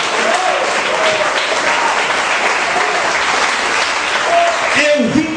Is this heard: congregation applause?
yes